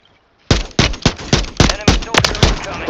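Gunfire in the Warzone 3 Plunder mode: about ten loud, sharp shots in an uneven, rapid rhythm. The shots begin abruptly after a half-second of near silence and are close and punchy, with no voices between them.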